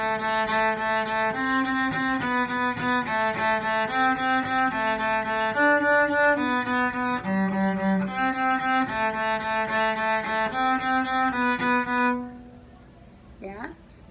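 A cello bows a melody, repeating each note three times in an even, steady pulse, sounding close and clear for about twelve seconds before the playing stops.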